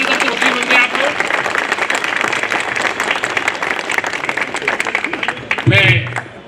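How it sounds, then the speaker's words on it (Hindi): Audience applause fills a Bar Council of Delhi enrolment meeting for newly enrolled advocates, steady and dense clapping from a large crowd throughout, swelling slightly near the end with a brief voice. "प्लीज जोरदार एक बार जोरदार ताली करके वकील बन गए आप लोग।"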